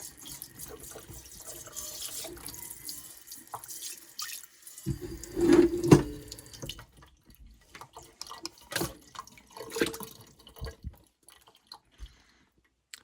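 Water from a primed tap or spigot runs over a pan to rinse off ash during a power outage, a steady close splashing stream with louder gushes and scattered drips, no talking.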